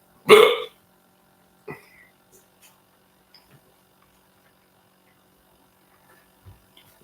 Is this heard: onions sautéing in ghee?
no